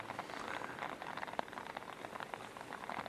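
Heavy downpour drumming on an umbrella held overhead outdoors, a dense, steady patter of close drops continuing alone without pause.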